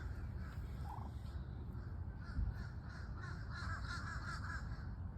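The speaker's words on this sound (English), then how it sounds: "You hear the crows?" Crows caw repeatedly at a distance in the morning outdoors, heard through a steady low rumble of background noise, with no talking.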